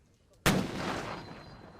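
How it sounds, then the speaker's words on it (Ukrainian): A single loud gunshot bursts out at a military shooting range after a brief quiet, its boom rolling and echoing for over a second as it fades. "Одні стріляють, інші дивляться."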